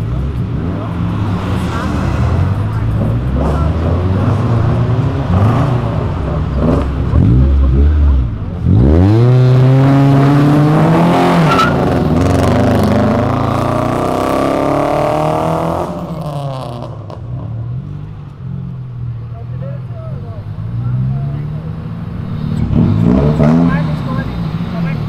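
A car revs hard and accelerates away from a car meet, the engine note climbing loud and close for several seconds before fading, with people talking and crowd noise around it.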